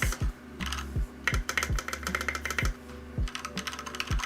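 Rapid clacky keystrokes on a mechanical keyboard fitted with IFK Delight keycaps, a close, crisp run of uneven taps and bursts with short pauses between, no voices.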